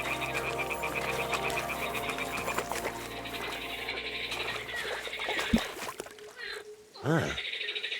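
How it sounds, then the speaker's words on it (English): Toads croak in the Zhelyov marshes in the video game Kingdom Come: Deliverance II, a dense ongoing chorus under game music, with a few louder croaks near the end. "Ah, the toads are croaking here."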